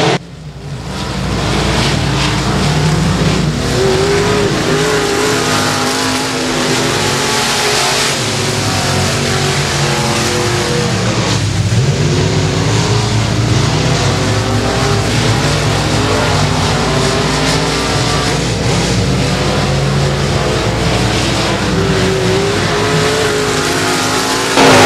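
Race cars roar around the Boothill Speedway track in a loud, sustained engine drone that swells and fades as the pack passes, with no speech over it.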